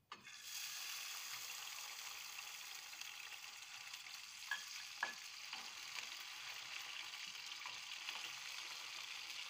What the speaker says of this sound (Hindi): हमारा तेल गर्म हो चुका है, अब हम सबसे पहले डालेंगे स्वीट कॉर्न।